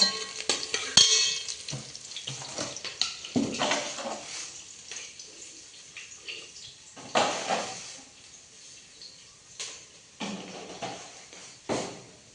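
Bursts of sizzling as spices hit hot oil in a pan while making tempered rice, mixed with stirring and the clatter of utensils against the pot.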